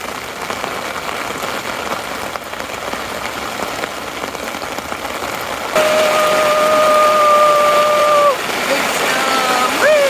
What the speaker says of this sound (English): Really going for it with the rain.